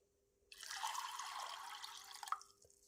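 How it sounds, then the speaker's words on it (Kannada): Water is poured into a cooking pot of field beans as a steady, fairly faint liquid rush lasting about two seconds. A small splash or clink comes near the end. "ಒಂದು ಪಾತ್ರೆ ಇಟ್ಕೊಂಡು ಅವರೆಕಾಳು ಹಾಕ್ಕೊಂಡು ಸ್ವಲ್ಪ ನೀರು ಹಾಕ್ಕೊಳ್ತೀನಿ"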